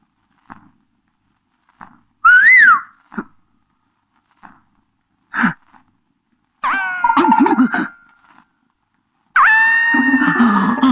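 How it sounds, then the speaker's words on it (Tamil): A person whistles in short tonal bursts, with rising and falling pitch, alternating with pauses and a few sharp knocks, close by and fairly loud. "நீயா விசில் அடிச்ச?"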